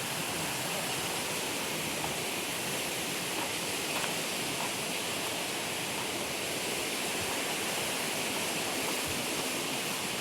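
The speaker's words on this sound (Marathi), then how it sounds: "वाटेमध्ये छोटे छोटे असे धबधबे दिसत आहेत." Small waterfalls beside the path to Marleshwar temple in Konkan rush steadily, a dense, even roar of falling water that stays constant throughout with no talking.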